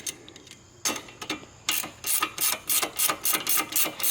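A wrench turns on a stripped brake line fitting at the caliper of a 3000GT VR4, giving a series of close, rhythmic ratcheting clicks that start sparse and then repeat quickly and steadily.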